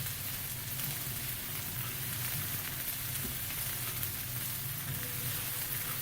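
Onions hitting a hot skillet for an enchilada rice dish, giving a steady, loud, continuous sizzle and frying crackle throughout with no talk.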